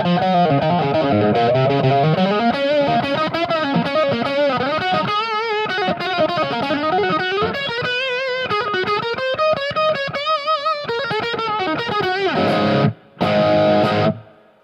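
Electric guitar played through a Positive Grid Spark 40 amp with an overdrive pedal, a distorted, chorus-tinged melodic line with sustained notes and a brief pause near the end.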